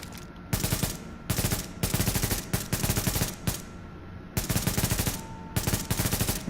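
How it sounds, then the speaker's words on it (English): A black market AK rifle fires in burst mode in The Division, giving loud, rapid strings of shots in distinct bursts separated by short gaps. "So even with burst firing, the AK, black market AK, is still really bad with recoil"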